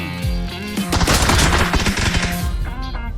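Rapid bursts of automatic gunfire from the video game PUBG crackle loudly and continuously, with heavy echoing blasts layered over one another.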